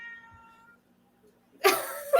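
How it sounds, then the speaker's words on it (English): A young kitten meows in a quiet room, a soft early call followed by a louder, drawn-out meow and a second short cry near the end, close by. "what cat is saying hello?"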